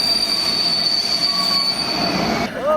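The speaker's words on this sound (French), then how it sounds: "L'animation ferroviaire à cette gare principale de Prague" A train at Prague's main railway station squeals loudly on its wheels with a steady high-pitched metallic screech over rolling rumble, close by and continuous.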